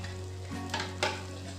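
Dhirde batter spooned onto a hot pan for a Shravan fasting recipe gives a steady low sizzle, with two brief louder hisses as spoonfuls hit the surface.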